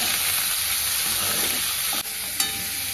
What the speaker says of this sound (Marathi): कारल्यात चवीनुसार मीठ टाकून घेतलं, छान असं मिक्स करून घेते